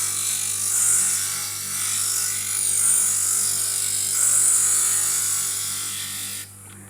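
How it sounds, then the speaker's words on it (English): A stained glass grinder fitted with a grinder's cookie works glass with a steady electric motor hum and a faint gritty whir, continuing evenly before cutting off near the end. "my Grinder's Cookie is what's going to do the work."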